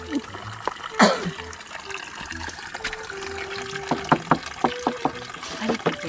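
Water trickling and splashing from a homemade deep well pressure pump in Mindanao, a thin irregular dribble with scattered drips and splatters, fairly close, while people talk faintly in the background.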